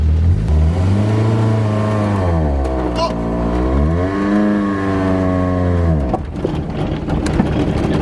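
A long-abandoned Renault engine, smoking and burning, revs hard at full throttle with the pedal floored, its loud pitch rising and falling in long sweeps before dropping off, with a voice talking over it.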